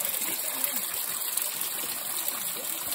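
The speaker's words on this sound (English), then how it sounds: "Beautiful water stream." A stream flows steadily nearby, giving a continuous close hiss and babble of moving water with no pauses.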